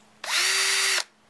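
A power drill bores into frog enclosure material in one loud, steady whir lasting under a second, starting and stopping abruptly against a quiet room.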